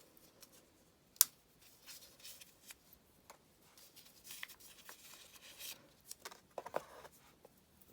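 Paper is handled and torn as a small advent calendar envelope is opened, with soft rustling, scattered crinkles and one sharp tear, close and quiet.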